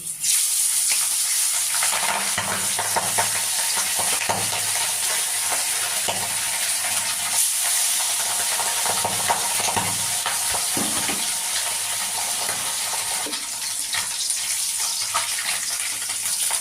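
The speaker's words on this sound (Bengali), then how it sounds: "এবার আমি দুটো দুটো করে মাছ ভেজে নেব" Pabda fish, two at a time, frying in smoking-hot oil in a home kitchen: a steady, dense sizzle and crackle runs close and loud the whole way, with occasional stirring or spatula scrapes and no talk.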